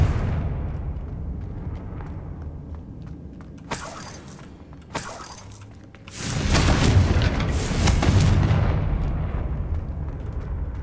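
Confringo blasting spell in Hogwarts Legacy, several loud booming explosions with bursts of crackle, two short blasts followed by a longer rumbling detonation that lingers and fades.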